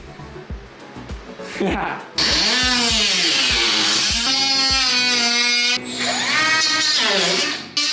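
A power tool whines loudly and steadily as it cuts into the rear bodywork of an R53 Mini Cooper to make room for a rear diffuser. The tool stops briefly once, and some talk runs underneath.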